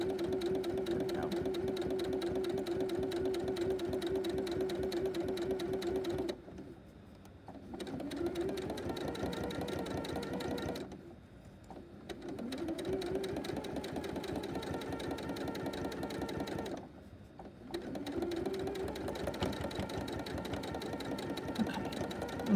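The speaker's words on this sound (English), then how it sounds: "I'm going to sew to the inner seam, and then I'm going to back stitch" A sewing machine stitches a tree skirt seam in steady, fast mechanical chatter, pausing briefly three times before resuming, close and even throughout.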